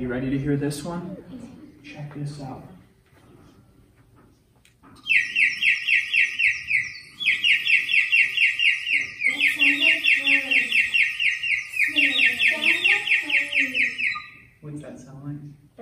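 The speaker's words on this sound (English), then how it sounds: "So that's my bird whistle." A small bird-shaped whistle blown in a run of sustained, warbling chirps with brief breaks between them, loud and close, framed by a speaking voice just before and after.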